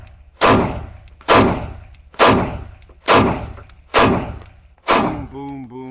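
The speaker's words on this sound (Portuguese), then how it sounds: "Carregamos nosso primeiro tiro e vamos ver como essa pistola se sai." A Glock 45 Gen 6 pistol fires 9x19 rounds: six sharp, loud, close shots about one second apart. Each shot cracks and then rings out briefly, and a faint metallic tone lingers after the last.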